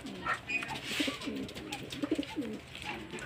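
Racing pigeons in a loft coo softly in low, rolling bursts, repeated a few times over faint background noise.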